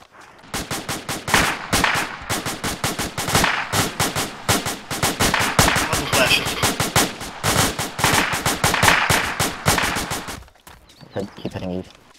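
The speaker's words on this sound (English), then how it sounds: "Seems like they're firing from where he's on." Dense, rapid gunfire in a military video game, loud bursts of automatic shots firing almost continuously before stopping abruptly near the end, with players talking over it.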